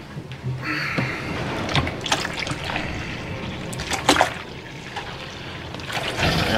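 Water splashes and trickles into a gold pan during test panning at a new spot, with irregular close pours and sloshing dribbles, no voices.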